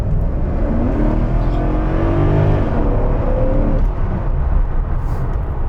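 A Mercedes SL500 with a 326-horsepower V8 accelerates hard at kickdown, its engine note rising steadily in a loud, sustained roar before easing off.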